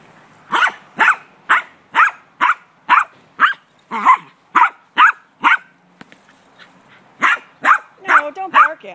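A dog barks loudly and close in a steady run of about a dozen sharp barks, roughly one every half second, with a short pause midway and whimpering yips mixed in near the end.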